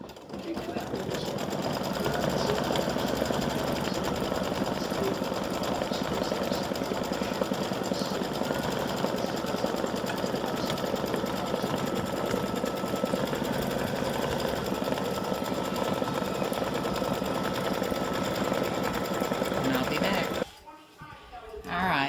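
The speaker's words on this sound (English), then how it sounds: "And so it's going to stitch the pumpkins here in the center of the straps." Embroidery sewing machine stitching appliqué pumpkins onto the centers of flip flop straps, a fast, even mechanical whirring and needle chatter running continuously for about twenty seconds before a brief stop, with a faint voice talking underneath.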